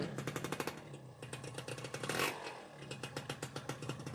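A Suzuki Satria two-stroke motorcycle engine fires up and runs with a rapid, rattling putter that swells briefly, then settles back into a steady, clattery idle, fairly faint.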